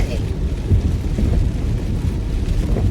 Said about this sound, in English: With the rain, but this lightning, come on now, Jesus.